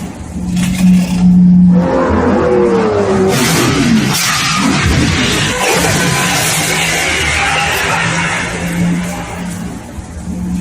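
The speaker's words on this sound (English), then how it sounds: "This car pulls out on a speeding Lamborghini." A speeding Lamborghini roars past in a road near-collision, its loud engine note rising and sweeping close over steady traffic noise, with a scraping, skidding edge through the middle.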